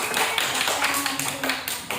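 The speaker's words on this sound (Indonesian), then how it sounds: "Beri tepuk tangan dulu untuk kelompok ini." A classroom of students applauds a student group, a dense burst of many hands clapping at moderate distance, steady across the moment with a faint voice underneath.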